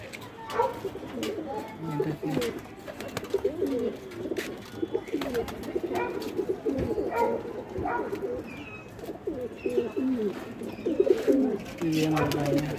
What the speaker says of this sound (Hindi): ये देखिए इनके कबूतर।